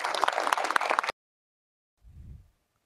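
Senators applaud in the Brazilian Senate chamber after a speech: about a second of dense, steady clapping that cuts off abruptly, followed by silence and a brief low thump.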